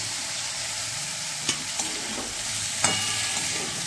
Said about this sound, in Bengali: মশলাটা ভাজা হয়ে গেছে এবার আমি ফুলকপিটা দিয়ে দিচ্ছি